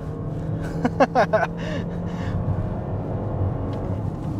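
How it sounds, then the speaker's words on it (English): A 2023 Lexus NX450h+ plug-in hybrid accelerates hard in hybrid mode with a little front wheel spin, giving a steady low rumble under a few short bursts of speech. "We'll go ahead and got a little bit of a front wheel spin"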